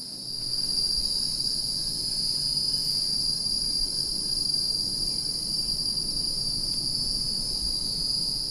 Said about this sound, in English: Cicadas. You can hear them everywhere in Singapore.